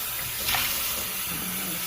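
Water poured from a container into a cooking pot for Rice-A-Roni, a short steady splashing gush close by with no talk over it.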